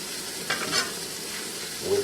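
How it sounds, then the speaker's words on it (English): Steady sizzling and crackling from a hot sauté pan before chicken is added, with a few brief scrapes and clinks of stirring. "That's immediately what I'm looking for, is that sizzle right there."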